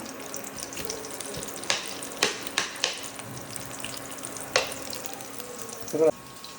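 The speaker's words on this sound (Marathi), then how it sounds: "पहिले कांदा पहिले फ्राय करून घेतो" Onion frying in oil on a home stove, a steady close sizzle broken by a few sharp clinks of a utensil against the pan.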